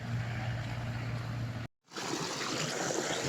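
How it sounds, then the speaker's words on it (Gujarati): A small stream of running water at a farm, fed from a nearby irrigation channel, rushes in a steady broadband wash, broken by a brief dropout midway before resuming. "પાણી ચાલુ છે કેમ કે એડામાં પાણી ચાલુ છે ને અત્યારે એટલા માટે અહીંયા પાણી આવે છે"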